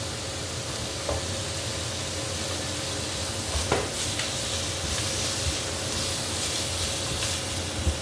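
Prawns and carrots stir-fry in a pan for a French bean dish, a steady close sizzle and hiss running throughout with occasional light scrapes and clinks of stirring.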